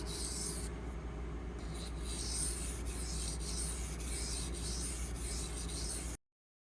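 A kitchen knife is honed on Pride Abrasives water stones, a close, steady series of wet rasping strokes with brief pauses between passes, continuing alone until the sound cuts off abruptly near the end.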